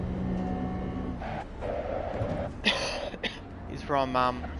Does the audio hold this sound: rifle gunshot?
no